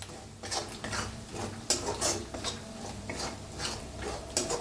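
A spoon scrapes and clatters against a pan while turmeric and spice powder are stirred and roasted, giving close, irregular metallic scraping strokes with occasional sharper knocks.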